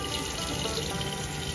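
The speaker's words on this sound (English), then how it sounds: "nice steady flow of water." Water flows from a camper faucet with its aerator refitted, a steady, even rushing stream that continues without a break.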